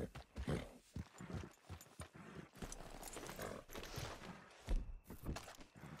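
Horse hooves clip-clop in uneven steps across ground in Red Dead Redemption 2, fairly quiet and close, with a brief whinny-like sound and scattered thuds, no clear talking.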